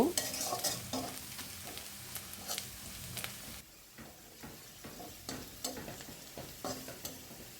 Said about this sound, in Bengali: পেঁয়াজটাকে আমি একটু ব্রাউন করে ভেজে নেব